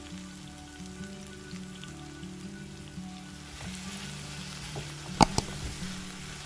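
Eggplant pieces frying with chilli powder in a pan, giving a soft, continuous crackling sizzle close by, with a couple of sharp clinks from a utensil near the end.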